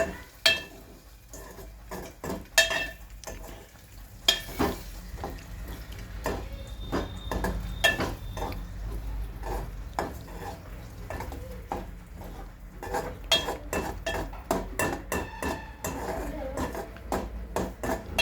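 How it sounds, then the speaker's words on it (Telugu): Beaten eggs are mixed in a bowl, with irregular soft clinks, taps and wet stirring sounds up close and a faint voice now and then in the background. "గుడ్లు అయితే కొట్టుకున్నాము, కలుపుకోవాలి"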